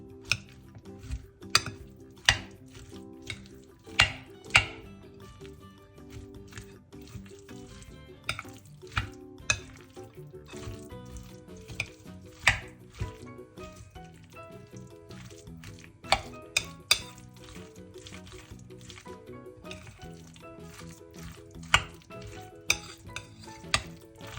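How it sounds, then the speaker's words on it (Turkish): Cabbage and carrot coleslaw is mixed with a yogurt sauce in a bowl. Wet, squelching stirring is broken by frequent sharp clicks of the utensil against the bowl in an uneven rhythm, close and clear. "yoğurtlu sosumuzun, lahana ve havucumuzun her yerini gelecek şekilde karıştırıyoruz"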